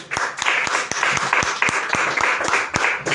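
A church congregation claps during a sermon, loud and lively, with sharp accented claps standing out from a dense wash of hands in a roughly steady rhythm, and no speech on top.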